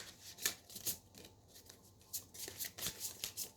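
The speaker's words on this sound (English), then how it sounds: "I'm still shuffling your cards." Tarot cards are shuffled up close in a run of quick papery riffles and soft flicks, repeating unevenly throughout with no talking.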